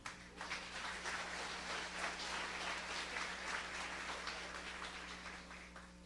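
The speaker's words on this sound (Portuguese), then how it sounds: "Aplauda o Robinho que ele foi aprovado." A church congregation applauds together, a sustained wash of many hands clapping at moderate distance that holds steady for several seconds, with a low steady hum underneath.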